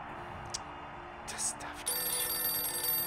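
A telephone rings in the adventure game Syberia, a bright electronic tone that starts softly and then sounds steadily over background music.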